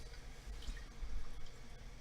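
Tap water runs into a pot being filled about half full for pasta, a soft steady trickle and drip close by, with no talking.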